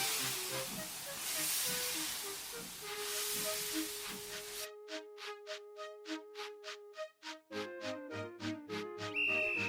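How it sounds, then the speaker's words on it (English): Gordon, a big steam engine from Thomas & Friends, vents a long, steady hiss of steam, then gives a run of short, pulsing whistle-like tones close by, with no talking. "Gordon, with much noise and blowing of steam, got ready to back onto the train."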